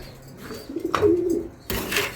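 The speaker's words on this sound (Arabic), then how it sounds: "هنا انت بتروق على الحمام بتاعك" Pigeons in a home loft give a soft, low cooing call near the middle, set against quiet rustling and faint background chirps.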